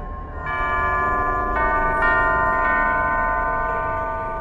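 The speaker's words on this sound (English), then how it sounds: "Only by playing the correct sequence of bells can it be opened." Bells ring in sequence in the Alice: Madness Returns video game, several loud sustained chimes struck one after another with rich overtones, heard without any talking.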